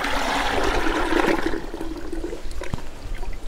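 Water gushes out of the tank of a double-motor battery-powered spray pump as it is emptied, a strong continuous pour that eases into trickling and splashing toward the end.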